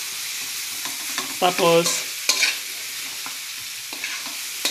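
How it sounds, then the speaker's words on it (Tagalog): Potatoes fry and are stirred in a pan, a steady sizzle broken by a short burst of scraping and clattering from the utensil, close and fairly loud, with a brief spoken word. "Tapos, sabay na natin yung fried na patatas. Kailangan maging golden brown siya."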